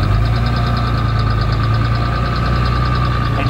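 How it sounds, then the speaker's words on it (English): A Cummins diesel engine swapped into a car idles nearby with a steady, throbbing low rumble and a faint rhythmic knock, constant and loud with no voices. "You hear some engine noise. Like very clearly."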